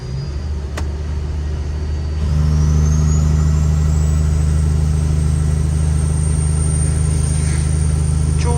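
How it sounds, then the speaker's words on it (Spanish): A truck engine brake kicks in after a couple of seconds of running, turning a low rumble into a loud, steady, deep droning roar held to the end, with a rising whine above it. "Vamos a ver cómo estamos de frenito de motor"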